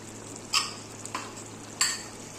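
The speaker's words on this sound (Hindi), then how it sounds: "बड़े आराम से प्यार से हमें चमचा हिलाना है।" A spoon stirring achar gosht in a frying pot, three distinct scraping strokes over a steady low sizzle, close and fairly quiet, no voices.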